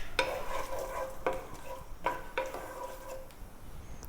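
Cumin seeds and green cardamom pods fry in hot oil in a pan, giving a soft sizzle beneath several sharp metallic clinks of a utensil striking the pan, spaced irregularly and close up.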